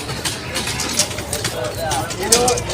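Pigeons coo softly and repeatedly over the noisy chatter of a busy crowd at a weekly pigeon market in Kaptan Bazar, Dhaka.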